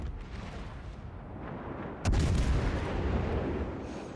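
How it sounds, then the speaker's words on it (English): Main guns of the Yamato battleship firing in World of Warships: a single heavy boom lands midway through a low ambient rumble, then a long rolling tail that fades slowly. "Yamato fires, fire my guns."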